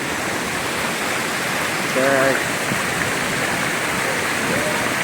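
Spring water flows in a steady, gurgling rush, close and continuous, with a brief voice rising over it partway through.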